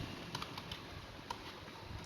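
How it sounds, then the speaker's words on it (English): Keys tapped on a computer keyboard while capital letters are entered in a design program, a few light scattered clicks over a quiet room hiss, faint and close. "I'm typing full capital letters"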